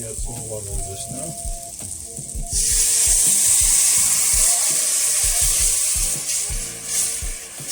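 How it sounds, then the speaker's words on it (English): Water splashes into a hot pan of garlic curry shrimp and a loud, steady sizzle erupts, hissing continuously over clattering utensils and a talking voice. "And we add some water to this now."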